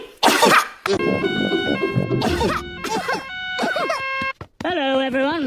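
A cartoon character lets out a series of loud, harsh coughs and throat-clearing bursts, alternating with bright, tonal cartoon vocal sounds across a few seconds.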